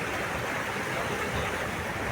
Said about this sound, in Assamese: সাগৰৰ ঢৌটো চাই লওক গাইছ এবাৰ